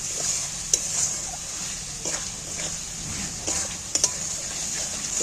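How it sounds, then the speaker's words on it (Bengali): Chopped egg white being stir-fried in a pan, a soft steady sizzle broken by several sharp scraping and clinking strokes of the spatula against the pan. "এইবার আমি ভালো করে কষিয়ে নেব"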